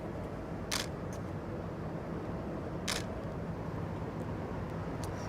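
Two distinct mechanical clicks of a single-lens reflex camera shutter firing in program mode, spaced about two seconds apart, with a fainter third click at the end, over steady low room hum and no talking.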